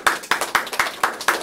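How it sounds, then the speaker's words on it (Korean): Brisk, rhythmic clapping from an audience at a Korean talk show on AI robots and loneliness, about six sharp claps in steady succession with no voices. "박수 한번 주세요."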